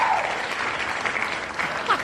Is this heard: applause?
yes